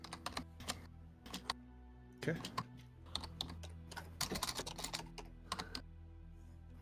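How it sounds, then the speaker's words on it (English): Fast, forceful typing on a computer keyboard comes in quick bursts of sharp clicks with brief pauses, heard up close, while a voice speaks briefly. "Really fast typing. Strong typing."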